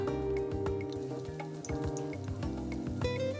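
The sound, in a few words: sorullos con queso frying in a pan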